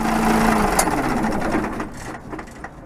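The engine of a 2021 Daewoo Prima 15-ton dump truck with a turbo and very low mileage runs with a rough, clattering idle close by, then winds down and fades toward quiet as it shuts off.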